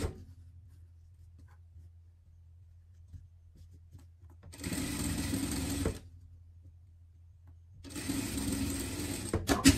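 A sewing machine stitching a garment lining, running in two loud bursts of about a second and two seconds separated by a quiet pause, with a low steady hum underneath and no talk.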